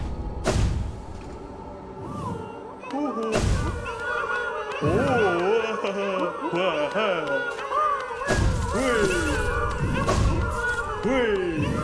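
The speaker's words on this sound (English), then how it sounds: "I forgot those enemies explode." Enemies in the Hollow Knight video game explode as repeated loud thumping bursts, several blasts spread across the clip over busy game music and effects, without any talking.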